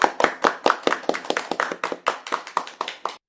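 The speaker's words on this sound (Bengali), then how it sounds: "তাহলে সবাই হাততালি দে।" A group claps hands in an uneven run of about fifteen sharp, close claps, steady at first and then tapering off, with no talking.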